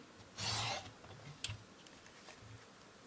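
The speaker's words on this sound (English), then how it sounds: "I just want to trim a little bit off the bottom here" A paper trimmer slices a strip off the bottom of a white craft card base in one short rasping cut, followed by a few faint ticks and taps.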